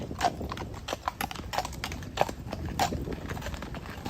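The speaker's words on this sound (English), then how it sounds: "The mounted patrol. Look at these beautiful horses." Mounted police horses walk through Central Park in New York City on a fall day, their hooves clip-clopping in an uneven but steady patter on pavement, fairly close, with faint crowd noise behind.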